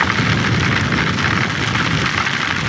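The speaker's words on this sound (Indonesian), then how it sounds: "Ini hujannya lumayan deras nih" Heavy rain falls steadily outside during an Independence Day outing, a dense continuous hiss with a low rumble beneath it, loud and unbroken throughout.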